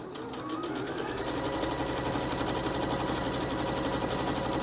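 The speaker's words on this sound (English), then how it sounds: "go all the way around the top edge of my pot, and that will close up that hole, and also just finish off the top really, just top stitching" A sewing machine top stitching around the edge of a fabric pot for an Easter nest, its motor running in a fast even rattle that stays steady and close throughout.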